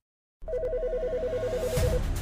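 A telephone rings with a rapidly warbling electronic trill that repeats steadily for a second and a half, loud and close, before a low swelling tone takes over.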